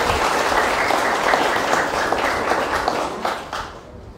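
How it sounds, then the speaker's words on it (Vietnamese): An audience at a Buddhist Dharma talk by a monk breaks into close, lively applause, dense clapping that fades slightly toward the end. "Vỗ tay đi."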